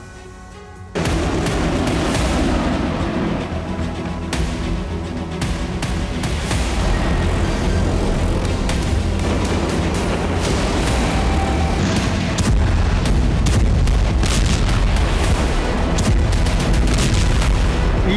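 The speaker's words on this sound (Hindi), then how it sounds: "बैरूत में इजरायली युद्धपोत ने कई जगहों पर गैब्रियल मिसाइलों से हमला किया है।" Israeli Gabriel missile strikes exploding across Beirut, heard as a loud, dense, continuous roar of heavy booms and rumbling blasts that starts abruptly and stays loud throughout.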